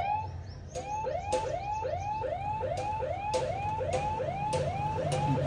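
An Ahuja hooter plays a modified siren sound, rapid repeating electronic whoops that rise in pitch over and over, steady and continuous against a low background hum.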